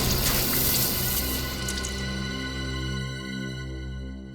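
Water splashes and pours out onto a drunk man lying passed out, a loud rushing gush at first that settles into a steadier trickling flow.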